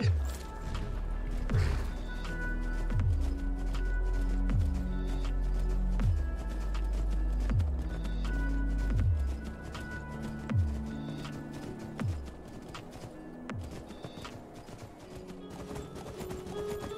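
Horse hooves clip-clop in an Elder Scrolls game, a steady rhythmic trot of sharp, close thuds repeating every second or so, with faint game effects behind.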